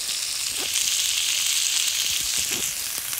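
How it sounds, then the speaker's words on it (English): Shredded cabbage frying in a pan for egg roll in a bowl, a steady bright sizzle with a couple of soft stirring scrapes, close and continuous with no talking. "this cabbage will cook up so quickly"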